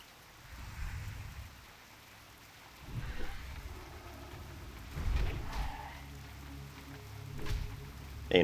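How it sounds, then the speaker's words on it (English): Rain in the game Turtle WoW, a faint hiss of falling rain with several low rumbling swells like distant thunder rolling in and out, no voices. "I got that rain, baby."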